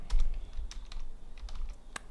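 Text being typed on a computer keyboard, a loud, close run of uneven key clicks and taps spread across the stretch, with no one speaking.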